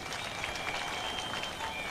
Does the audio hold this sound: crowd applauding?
yes